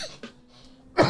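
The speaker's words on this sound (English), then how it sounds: "I have a cough." A person coughs twice, a short rough burst at the start and a louder, harsher one at the end, separated by quiet.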